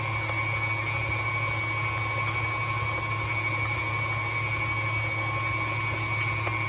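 An electric mixer whirs steadily at close range, a constant humming drone with no breaks, while candy apple cupcake batter is mixed in a bowl.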